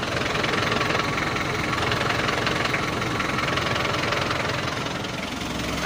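A Mitsubishi L300 van engine runs steadily after an overhaul and upgrade, with a faint leftover transmission whine. The drone is continuous, close and even, and no voices are heard.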